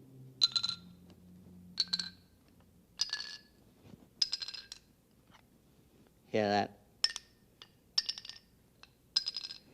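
Vibrating metal bars are struck in a physics demonstration, one bar slightly out of tune with the rest; about eight bright, ringing strikes come roughly a second apart, and someone speaks briefly midway.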